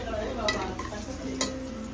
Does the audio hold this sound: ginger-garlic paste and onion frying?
yes